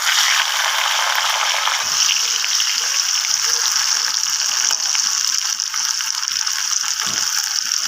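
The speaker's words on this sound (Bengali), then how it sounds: "এবার আমি এর উপরে টমেটো যে কুচিয়ে রেখেছিলাম সেই টমেটোটা দিয়ে দেবো।" Chopped tomato hits potatoes frying in oil and sets off a steady, close sizzle that crackles continuously without a break, with no talking.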